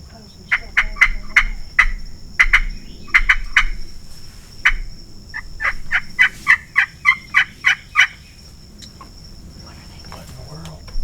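Wild turkey hens give repeated sharp yelps and clucks in quick bursts, fairly close, over quiet South Florida outdoor background with faint insects.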